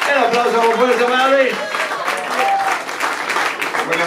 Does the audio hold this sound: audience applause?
yes